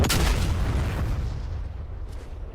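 A deep, rumbling explosion from a flight combat video game sets off a loud low boom that rolls on and slowly fades over a few seconds, with no one speaking over it.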